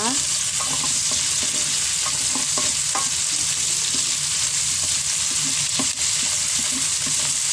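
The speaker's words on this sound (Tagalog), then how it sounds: "Golden brown na yung ating pork. Haluin lang natin siya." Pieces of pork fry golden brown in a pan for Batangas lomi, a steady bright sizzle close by, with repeated light scrapes and taps as a utensil stirs the meat.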